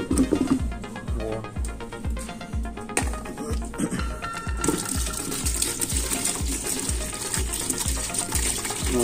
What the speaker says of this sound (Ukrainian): Налієм водички їм,